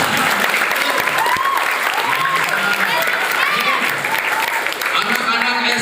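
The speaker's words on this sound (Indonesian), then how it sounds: "Luar biasa. Tepuk tangan." Students clap together in enthusiastic applause, a loud, dense crowd of hands with voices calling out over it throughout.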